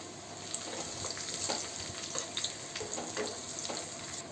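Garlic and green chillies sizzle in hot ghee for a tadka poured over palak paneer, a steady close frying crackle with soft stirring scrapes and occasional small pops, no voices.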